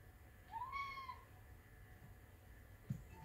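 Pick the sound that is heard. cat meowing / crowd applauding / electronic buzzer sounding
cat meowing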